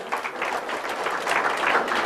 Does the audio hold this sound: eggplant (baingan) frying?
no